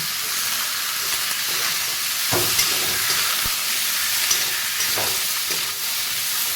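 Cut cucumbers, added after potatoes, frying in a home kitchen pan for a Malabar spinach and cucumber dish, giving a loud steady hiss and sizzle with occasional soft knocks and stirring clatter.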